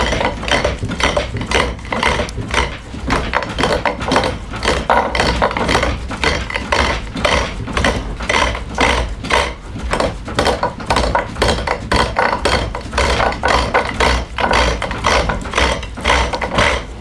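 Large gouge cutting the corners off a square wood blank spun on a lathe for a joined-stool stile, a steady loud rough whirring chatter with rapid rhythmic ticks as the edges strike the tool, continuous and close.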